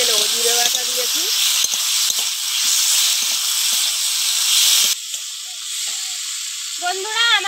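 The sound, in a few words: cumin paste sautéing in fish curry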